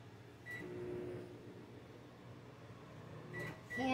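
A microwave oven melting butter for a boxed pineapple upside-down cake gives a steady low running hum, with short electronic beeps near the start and again near the end.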